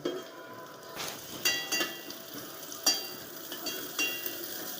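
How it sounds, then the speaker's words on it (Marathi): Onion frying in oil in a pan, with soft sizzling and intermittent stirring clinks at a close, fairly quiet level. "आता याच्यात एक पळी तेल वतायचं आहे चांगला कांदा असा तळून घ्यायचा"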